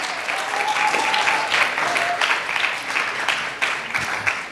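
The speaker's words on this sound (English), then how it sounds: "another round of applause for Bishop and Pamela Selders." Audience applause at a library event after a bishop and his wife speak, moderately loud steady clapping from a modest crowd with a few faint whistles mixed in.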